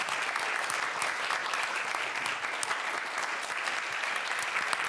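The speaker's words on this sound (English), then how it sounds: "they were here to hear the applause of the public" Audience applause at a Cannes film festival press conference, a dense, even sheet of clapping from many people that holds steady throughout at moderate level.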